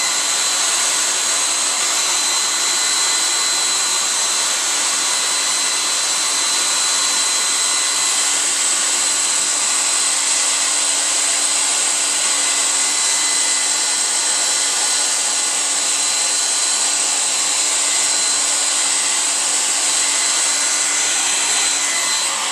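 A hair dryer blows steadily and loudly, melting beeswax while honey supers are prepared, a constant whooshing hiss with a fixed motor whine, uninterrupted for the whole stretch.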